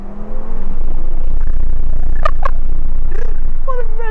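A 2015 Audi RS3 accelerates along a country road, its engine producing a loud, steady low roar that rises quickly at the start and holds for several seconds, with faint brief chirps over the top.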